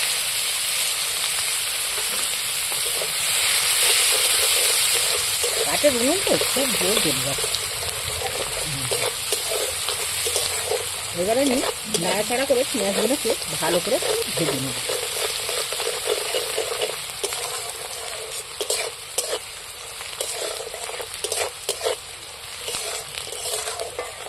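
Chopped onions hit hot oil with nigella seeds, giving a steady loud sizzle and hiss that runs throughout, with occasional stirring scrapes and clatters in the middle.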